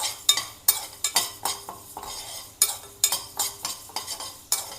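Toor dal dry roasting in a pan, with repeated scraping stirs of a spoon across the metal and the lentils rattling and shifting, loud close strokes in an irregular rhythm with no talk.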